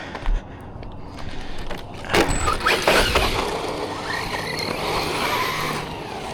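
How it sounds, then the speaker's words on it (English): An Arrma Granite V4 223S BLX RC monster truck drives and skids around outdoors, with a steady motor whine, scraping tire noise and a few louder bursts as it slides, and no voices. "this thing's wicked. Wicked monster truck."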